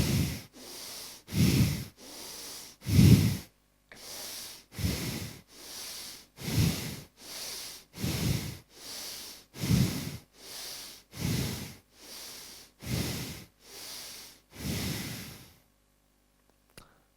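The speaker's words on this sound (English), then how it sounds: "This was your breathing exercise, Bhastrika pranayam." Rapid, forceful rhythmic breathing of Bhastrika pranayama yoga practice, a long series of loud, even huffing exhalations through the nose in steady bursts, close up, stopping into silence near the end.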